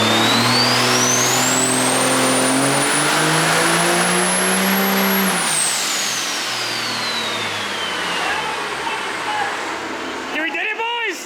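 A twin-turbo Cummins diesel truck roars loud and close on a dyno power run, pitch climbing steadily with a rising turbo whine, then easing off as the revs drop, with voices breaking in at the end.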